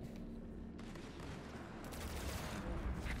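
Ground troops exchange gunfire in Halo Wars 2, a faint, continuous rattle of distant shots under steady battlefield rumble that grows slightly louder at the end.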